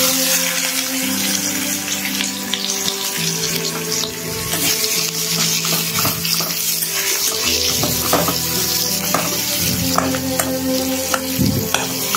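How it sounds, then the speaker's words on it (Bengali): Chopped onion and cinnamon frying in oil in a pan, a loud, continuous close sizzle with bursts of crackle and a few clinks and scrapes of a utensil, no speech. "তারপর দিয়ে দেবো পেঁয়াজ কুচি।"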